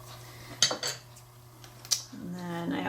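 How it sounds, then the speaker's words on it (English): A blade scrapes the outer edge of a thin tip in two brief, crisp strokes, up close and fairly quiet, over a steady low background hum. "So I'm really just scraping that outer side of the tip."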